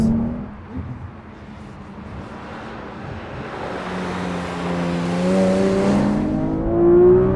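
A manual Porsche 911R engine drops in pitch, then climbs again as revs rise between shifts, a loud, close mechanical drone rising toward the end.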